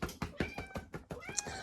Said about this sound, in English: I have a cat coming to visit me.